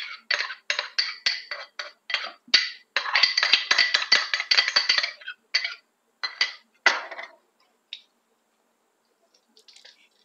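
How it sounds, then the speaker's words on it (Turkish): A whisk rattles and clinks rapidly against a pot while beating a yogurt, vinegar and garlic mixture, in bursts of quick metallic strokes with brief pauses, near and clear, fading to a few light taps at the end. "Bütün karışımı güzelce çırparak, karıştırmayı hiç bırakmadan"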